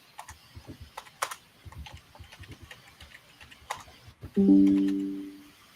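Keyboard typing while notes are taken at a political party executive committee meeting: a rapid, uneven run of close, light key clicks with a few sharper strikes, ending in a short louder burst.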